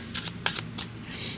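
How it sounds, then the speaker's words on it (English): A deck of cards being shuffled rapidly during a card reading, heard as a few short riffling bursts close by with brief pauses between them. "Wow, that was fast shuffle."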